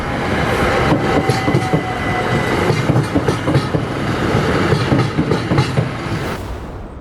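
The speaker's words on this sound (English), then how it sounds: "a train went past and the barriers were down" A train rumbles past a level crossing with the barriers down, loud and close by, wheels clattering rhythmically over the rails before the noise begins to fade at the end.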